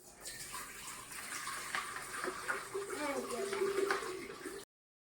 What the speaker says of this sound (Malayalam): ഇതിലേക്ക് ഒഴിച്ചു കൊടുക്കാം മൂന്ന് ലിറ്റർ വെള്ളം